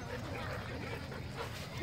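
A dog at an outdoor dog park whimpers and yips faintly amid background park noise and nearby talking.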